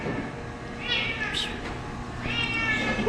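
A domestic cat meows in two drawn-out, plaintive calls close by, the second rising and stretching longer, over a low steady background hum.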